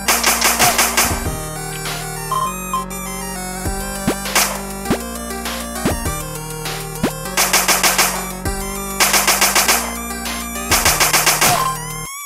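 Gunfire from a roguelike game made for the 7DRL 2023 game jam, heard as loud, dense bursts of synthesized shots and impacts over a busy musical score, with repeated clusters of rapid fire and no talking.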